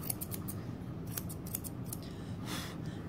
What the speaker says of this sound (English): My scissors straight across the back pad.